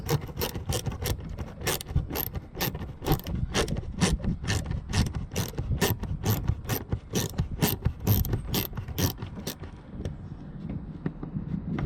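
A hand ratchet with a T20 Torx bit backs out a wheel arch bolt on a Vauxhall Astra H, giving a close, steady run of quick clicking pawl strokes for about ten seconds before stopping.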